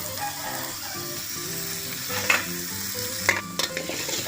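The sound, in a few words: shallots and garlic frying and stirred in a pan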